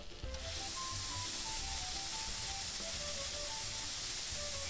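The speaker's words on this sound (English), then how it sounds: "now we gotta stir fry this shit" A steady, loud sizzle of food being stir-fried in the Cooking Mama video game, continuous hiss with faint melodic game tones underneath and no talking.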